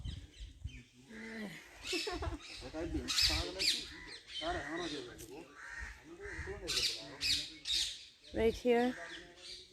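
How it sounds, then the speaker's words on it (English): Many parrots call from a large, beautiful tree, a dense flock of harsh squawks and screeches throughout, with a person speaking briefly among them. "There's so many parrots living here."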